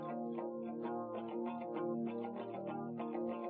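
Guitar played through a Galaxy Tape Echo plugin with the echo effect soloed, giving a steady wash of repeating, slightly smeared chords and notes that ring on continuously and fairly loud.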